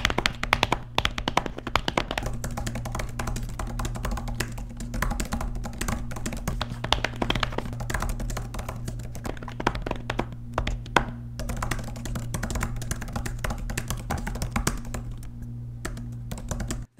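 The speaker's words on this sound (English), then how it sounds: "a brief comparison of what the typing sounds like" Steady, rapid typing on an Apple Magic Keyboard, close up, with soft key taps in an uneven rhythm throughout and no talking.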